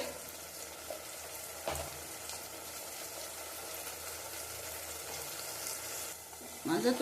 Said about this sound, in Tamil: எண்ணெயெல்லாம் பிரிஞ்சு வர வரைக்கும் வதக்கி விட்டுறலாம்